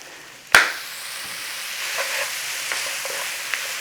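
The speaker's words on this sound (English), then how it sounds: "A little saute on there. Start to cook those carrots and onions." Carrots and onions with a pinch of salt hit a hot wok, opening with a sharp loud sizzle burst that settles into a steady close frying hiss with faint stirring scrapes, with no talking.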